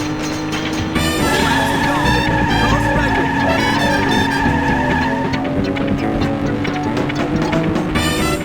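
Car tires screeching in a long skid while drifting in the arcade racing game Over Rev, a loud sustained squeal over a revving engine, shifting pitch as the slide continues for several seconds.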